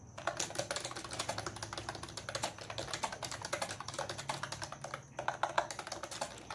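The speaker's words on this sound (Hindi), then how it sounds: "जस्ट ये टाइपिंग एक टेस्ट मैं आपको दिखा रही हूँ" A computer keyboard struck in fast, steady bursts during a typing test, dense close clicks running almost without pause, with one brief gap before the rapid tapping resumes.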